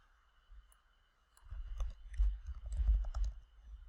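Computer keyboard keys clicking as someone types a short label description, starting with a few sparse taps and then a quick, close run of soft clatters, with no talk.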